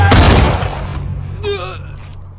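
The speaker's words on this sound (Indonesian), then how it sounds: "Ranvijay tewas ditembak oleh Mathur." A single loud, sharp gunshot blast opens the clip, then fades into a rumbling, quieter background with a brief tonal whine.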